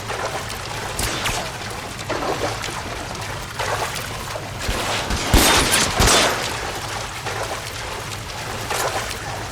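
Rising water flowing and pouring in the L.A. Noire video game, a steady broadband rush and trickle with splashy bursts near the middle, mixed with a low game hum and no clear talk.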